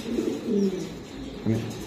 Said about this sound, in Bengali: আর শেপটা দেখেন ভাই, কতটুক মোটার, কতটুক বড়, বিশাল সাইজের কবুতর।